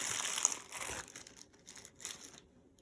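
Plastic bag holding a ball of clay crinkling in a few close bursts, rustling and crackling, then fading to quiet near the end.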